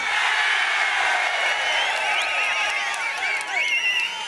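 Large outdoor crowd at an AIADMK election rally in Tiruchengode, Namakkal district, cheering and whooping in a loud, continuous roar with scattered shrill whistles rising above it.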